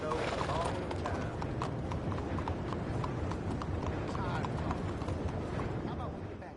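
In Red Dead Redemption 2, a horse's hooves clop steadily and rhythmically on snowy ground, heard close and continuous under a dense game soundscape with voices.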